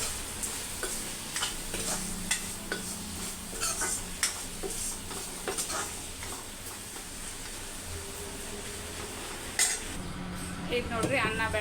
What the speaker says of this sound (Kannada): ಎಲ್ಲನೂ ಚೆನ್ನಾಗಿ ಮಿಕ್ಸ್ ಮಾಡ್ತೀನಿ.